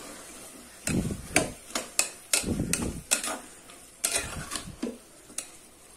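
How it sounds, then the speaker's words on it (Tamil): Beans and potato are sautéed for vegetable masala rice. A spoon stirs and scrapes the pan in an uneven series of knocks and clinks over a faint sizzle, close by with no talk. "இது நல்லா கொஞ்சம் வதக்கி விட்டுடலாம்."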